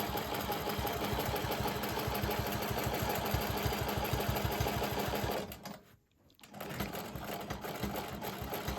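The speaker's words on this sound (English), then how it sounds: "I'm backing up just a little bit to tie those stitches off." Sewing machine stitching a quilt block, a close, steady rapid mechanical hum and clatter that stops briefly for about a second, then starts up again.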